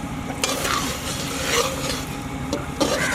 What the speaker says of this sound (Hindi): ये शामिल कर लेंगे और तकरीबन 10 से 12 मिनट इसे भूनते हुए पकाएंगे